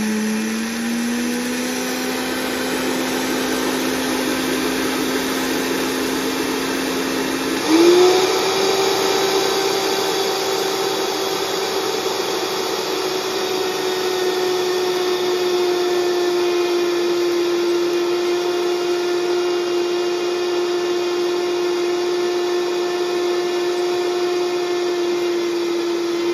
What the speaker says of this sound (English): Get the RPM coming up on it. You can hear the blender.